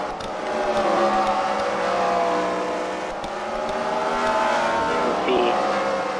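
Race cars in a CWRL Fight Night heat at The Freedom Factory roar around the track in a loud, sustained engine drone that swells and fades as they pass, with no talk over it.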